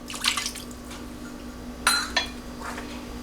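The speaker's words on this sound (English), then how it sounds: "now I'm going to add 1 cup of the chicken broth, and I use reduced sodium 1, and 1/2 cup of water" Reduced-sodium chicken broth and water poured into a cooking pot, with short splashing pours and clinks of the container against the pot, close and clear with no talk.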